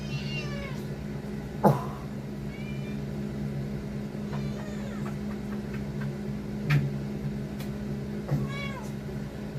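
A cat meows several times while being picked up, short separate cries over a steady background hum, with one brief spoken exclamation.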